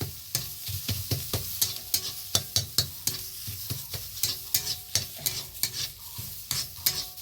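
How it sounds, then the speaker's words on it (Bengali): Mustard greens bhorta with turmeric and sugar being stirred in a pan: a spoon gives a string of sharp, rhythmic scraping strokes over a soft sizzle, close and clear, with no voices. "এইভাবে খালি একটু ঘেটে নিতে হবে বন্ধুরা"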